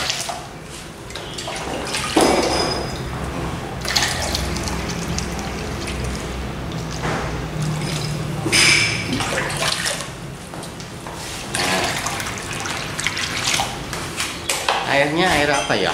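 Clean well water pours steadily into a shallow tray of azolla during routine topping-up, a continuous splashing rush with brief clinks and knocks, close and moderately loud, with a voice at times underneath.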